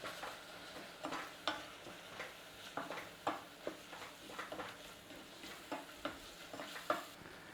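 Black pepper being stirred into a sizzling sauce in a pan, rhythmic scraping strokes about every half second over a soft, close frying hiss, with no voices.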